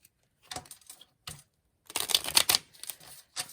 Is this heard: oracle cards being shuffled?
yes